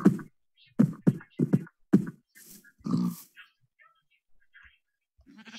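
A Minecraft pig grunts in a series of short, close, choppy snorts, first quickly repeated and then sparser, trailing off into quiet.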